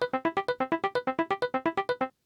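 An electric piano arpeggio sample loops on an Akai Force pad, about sixteen quick, evenly spaced plucked notes in a steady rhythm, clean and alone, stopping abruptly.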